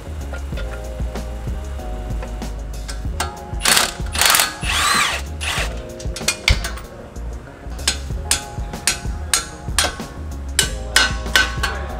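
Repeated ratchet clicks and metallic clanks come from work under a jacked-up 2018 Subaru Impreza as suspension bolts are removed for a BC Racing coilover install, close up with no talking.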